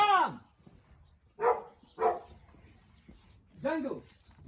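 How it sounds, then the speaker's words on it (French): A dog named Django barks repeatedly in a few loud, separate bursts, with quieter pauses in between and low background noise underneath. "un chien qui aboyait beaucoup"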